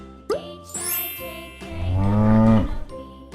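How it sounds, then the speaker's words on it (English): A cow lets out a single long, loud moo that swells and fades, preceded by brief animal calls and a faint bell-like tinkle, with no talking. "Cow."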